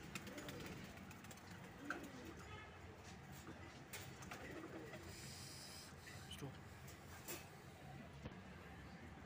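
Grey pigeons for sale at a market in Andheri, Mumbai, coo softly in low, throaty bursts amid rustling and fluttering, with some voices talking in the background.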